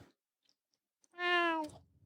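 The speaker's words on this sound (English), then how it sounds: "Meow. Is what I heard." A single cat meow, a short drawn-out call with a slightly falling pitch. It sounds fairly close and clear, and quiet stretches with faint clicks come before it.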